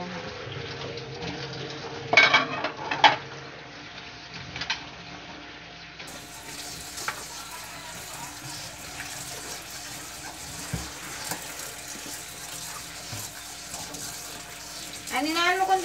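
Tap water runs steadily while dishes are being washed at a sink, a continuous close splashing hiss with louder bursts and faint clinks, and people talk softly in the background.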